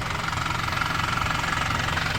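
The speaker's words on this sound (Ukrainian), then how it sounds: "Заведений двигун." A commercial vehicle's 2.8-litre, 116 kW engine idles steadily nearby, a low, even rumble with a faint rhythmic knock and no other sounds.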